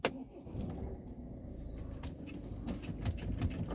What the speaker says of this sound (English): Now we will start the vehicle up.